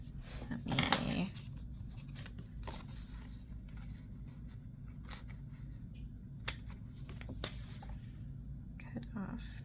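Scissors snip off excess paper while an Archer & Olive traveler's notebook is being planned, one short crisp cutting burst near the start followed by quiet rustling and a few light taps.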